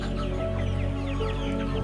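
Free-range village chickens on a poultry farm cluck steadily and fairly loudly over a constant background hum, with no talking.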